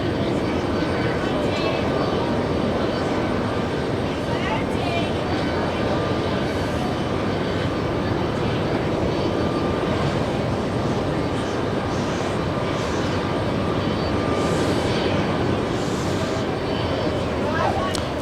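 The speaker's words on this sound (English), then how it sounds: "We have Delta Airlines crossing 22, correction, 4 left." A Delta Airlines jet crossing runway 4 Left at JFK gives a continuous rumbling engine roar, fairly loud and sustained, with faint voices at times in the background.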